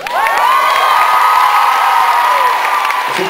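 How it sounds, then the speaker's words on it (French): A concert audience at a show bursts into loud, sustained applause and cheering. Whoops and shouts rise over the clapping throughout, then it starts to ease off at the very end. "on peut applaudir déjà pour commencer bien la soirée"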